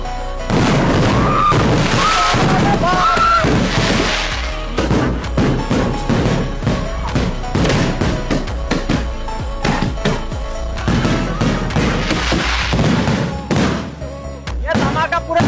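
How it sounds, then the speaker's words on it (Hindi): Two big firecracker bombs set off together, a dense burst of loud booms and sharp cracks that keeps going for several seconds, with people talking and shouting throughout. "ये धमाका पूरे भारत में सुनाई दे रहा है।"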